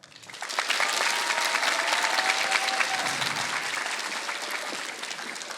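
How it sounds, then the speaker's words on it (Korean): An audience of students bursts into applause for a guest pro gamer and commentator at a lecture event, dense clapping rising quickly and sustained at full strength before tapering slightly toward the end. "여러분 큰 박수로 청해 보죠"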